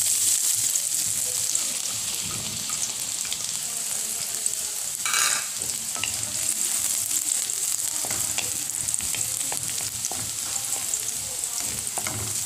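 Garlic sizzling and frying in hot oil for a milkfish sauce, a steady close crackle with occasional stirring scrapes, no talking.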